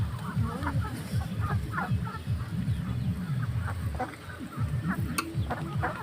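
Native domestic ducklings feeding on paddy grain beside a pond, a busy flock of overlapping honks and quacks close by, continuous and fairly loud throughout.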